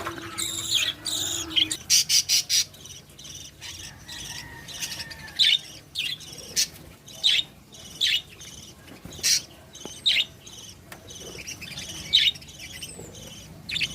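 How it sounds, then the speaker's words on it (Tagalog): Pet parakeets chirp in a cage with quick repeated high tweets and short trilling bursts, close and fairly loud, over a faint insect-like hum in the background. "Ito yung old ko na female na love na parakeet."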